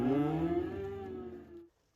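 A single sustained calf moo, fairly close and moderately loud, rising slightly in pitch before cutting off, as a dog works the weaned calves.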